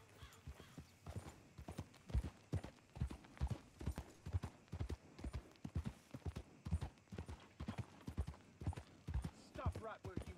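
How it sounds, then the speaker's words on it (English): Horse hooves clip-clop and gallop in Red Dead Redemption 2, a steady rapid rhythm of close, distinct hoof strikes running throughout, with game background sound and an occasional whinny. "I guess I'll hop on my horse and see if I can cover some more ground that way."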